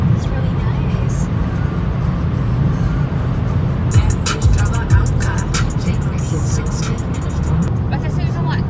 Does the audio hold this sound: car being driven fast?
yes